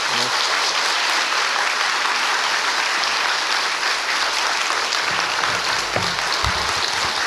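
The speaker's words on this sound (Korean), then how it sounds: "박수와 환영으로 이들을 환영하겠습니다." A church congregation at a Sunday service applauds to welcome guests, with loud, sustained clapping filling the whole stretch and some faint voices and low thumps beneath it near the end.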